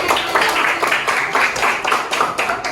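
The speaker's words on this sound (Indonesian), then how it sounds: "tepuk tangan buat kita semua" A classroom of students clapping hands together in rapid, fairly even bursts, close and moderately loud, sustained for a few seconds without speech over it.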